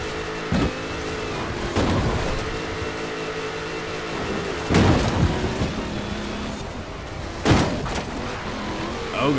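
Car engine in Forza Horizon 4, a steady loud drone of the vehicle being driven, broken by several sharp thumps or impacts as it bounces over terrain.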